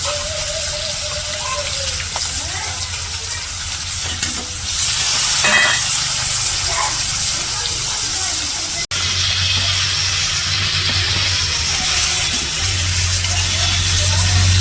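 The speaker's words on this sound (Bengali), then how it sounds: "সবগুলা মাছ ভাইজা নামিয়ে নিচ্ছে" Pieces of large river katla fish, rubbed with turmeric, chili and salt, fry in oil in a wok with a constant loud sizzle, while faint background voices and a low hum sit underneath.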